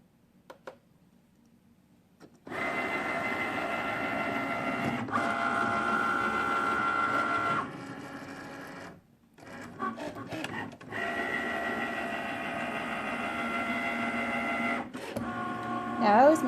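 A Cricut cutting machine cuts leather for a no-stitch purse, giving a steady mechanical whir and hum that runs in long stretches broken by brief pauses, close by and fairly loud.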